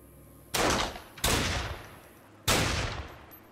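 Rifle gunfire in the video game Fallen Earth: three loud, close shots, each cracking sharply and then trailing into a long rumbling echo, with uneven gaps between them.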